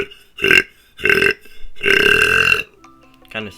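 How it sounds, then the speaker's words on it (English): Deliberate, continuous burping of the pig-like kind, with three loud, drawn-out belches, the last one longest, separated by short gaps, heard alone and up close. "burp continually, except you don't close your throat."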